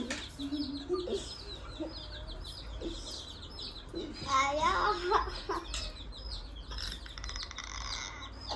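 Chicken chicks peep and cluck softly in a home setting, with a brief louder burst of chirping midway over a low background.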